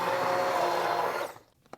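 An electric blender whirs loudly and close as it purees loaded baked potato soup, a steady dense roar that cuts off abruptly and leaves a few faint clicks.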